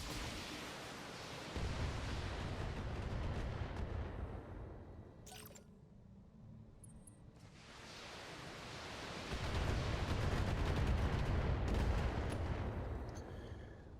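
Sustained gunfire from turrets in the space combat game Thorium Mercs, a dense roaring barrage that drops away briefly in the middle and then resumes, steady and loud with no speech.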